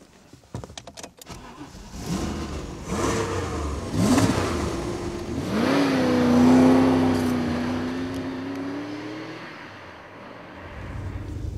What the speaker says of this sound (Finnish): Tämä raju V8 rauta on Saab 9-tonninen.